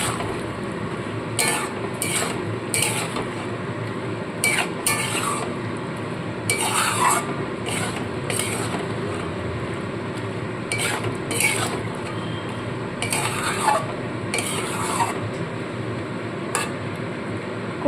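Boiled peas being mixed into cooked pumpkin in a pot, with a spoon repeatedly scraping and clinking against the pot in bursts over a low, continuous background, close and soft.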